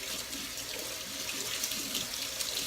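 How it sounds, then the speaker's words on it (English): Cold tap water runs steadily over basmati rice being rinsed, a continuous hissing splash with no breaks, fairly quiet and close. "For the basmati rice, you first rinse it under cold water."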